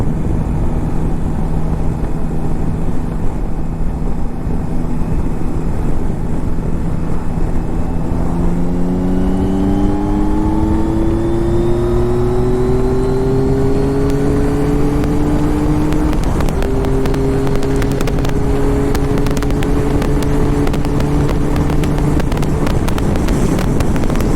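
A Yamaha Tracer GT9+ motorcycle engine revs up through several gears, its pitch climbing, dropping at each shift, then climbing again, with wind rushing past throughout.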